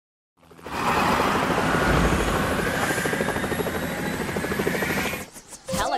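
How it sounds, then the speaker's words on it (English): Rescue helicopter in a children's transport video game, its rotor thumping and engine whining loudly and steadily for about five seconds before cutting off abruptly. "Helicopter rescue."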